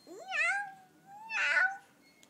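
A person imitates a cat's meow twice, two drawn-out, rising-then-falling mews roughly a second apart, close and clear against a quiet background.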